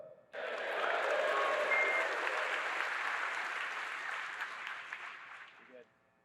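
A crowd at a space-traffic talk bursts into loud, sustained applause and cheering for about five seconds, then it fades out quickly, with a brief voice at the end.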